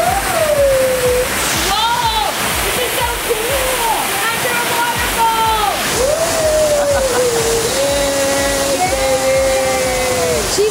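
A waterfall splashes loudly and continuously at the ocean's edge while a young girl bathes under it, with excited shouts and voices from several people over the rushing water.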